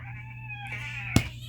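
Several cats meow indoors in a short, drawn-out call, with a sharper cry near the end over a steady low hum.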